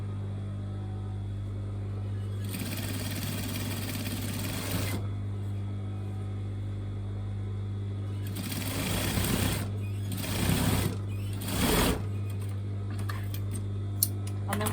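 Sewing machine stitching the seam of a fitted pencil skirt just inside the overlocked edge, running in several short bursts of a few seconds each over a steady low electrical hum, close, with pauses between runs.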